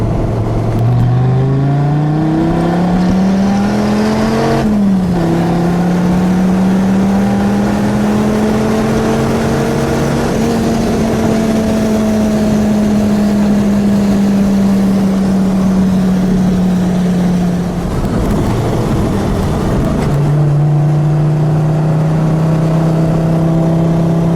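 A blue 2006 Dodge Viper SRT-10 coupe's V10 burbles steadily while driving, a loud, deep, continuous engine drone that dips briefly and then holds a low, even note with no talking.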